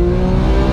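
Porsche 991 GT3 with a naturally aspirated engine and Sharkwerk exhaust, a brief, loud, steady engine note with a strong low drone, heard close up.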